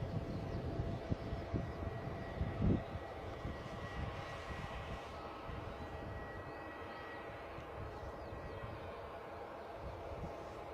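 An EasyJet airliner departing Bristol Airport for Newcastle, a distant, faint, sustained engine roar with a low rumble and a brief louder thump early on, steady and far off.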